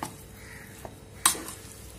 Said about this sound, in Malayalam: ഇനി ഇത് നന്നായിട്ട് ഒന്നും കൂടി ഒന്ന് മിക്സ് ചെയ്യണം.